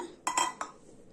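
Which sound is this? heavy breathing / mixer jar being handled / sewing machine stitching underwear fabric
mixer jar being handled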